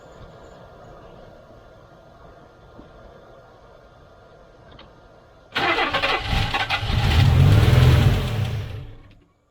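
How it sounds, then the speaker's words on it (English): A 1991 GMC truck engine, previously abandoned and with a missing gasket, cranks into life after a quiet stretch, then revs loudly and roughly for a few seconds before cutting off abruptly. "See if it runs any longer this time. I just started revving up."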